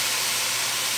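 Beef frying with onion and garlic in a very hot pan, a steady, loud, broad sizzle with no gaps.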